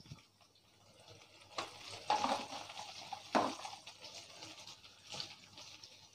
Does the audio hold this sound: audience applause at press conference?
no